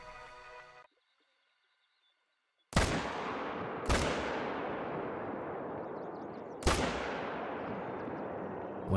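Three loud, sharp hunting rifle shots in a deer-hunting video game, each followed by a long rolling echo, after a brief quiet stretch.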